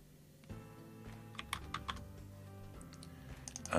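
Typing on a computer keyboard while filling in a word-processor cover page, a short burst of distinct key clicks in an uneven rhythm, close and fairly quiet, with no talk.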